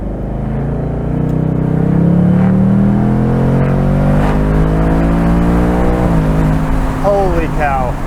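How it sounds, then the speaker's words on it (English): A 2024 Ford Mustang 5.0 V8 convertible accelerating hard in sport mode from a stop, its engine note climbing through the gears with a brief dip at each shift, loud and close inside the car, with a voice speaking over it. "let's start driving the Mustang V8 convertible. Put it into sport mode"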